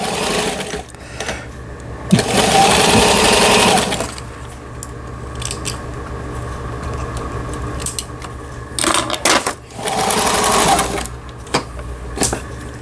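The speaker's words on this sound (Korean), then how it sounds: "전후진 리버스 버튼이 움직이지도 않았던 기계가 이렇게 하나씩 움직이니까 저도 기쁩니다" A household Riccar Sunny sewing machine under repair runs in two loud, steady, close bursts of mechanical whirring, with softer clicking and handling noise between them.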